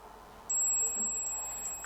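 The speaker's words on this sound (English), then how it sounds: "you should hear this lovely little beep" A Wilko M300C digital multimeter on its continuity setting gives a steady high electronic beep that starts abruptly and holds continuously, clear and close, with no talking.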